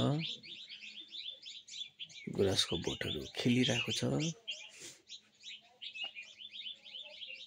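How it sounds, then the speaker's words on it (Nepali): Small birds chirp and tweet steadily in the background on a village morning, bright and continuous, while a person speaks over them for a few seconds. "चराहरू कराइरहेको छ"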